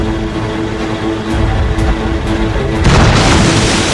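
Loud ship cannon fire in the Assassin's Creed Rogue naval battle, heavy booms rolling into a sustained roar of blasts and rumbling noise, close and dense, with no talking.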